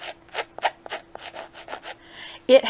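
Fingers rub over fine-ribbed tie fabric, like a men's tie, giving a series of soft, close, scratchy strokes in an uneven rhythm, with a sharper rustle at the end.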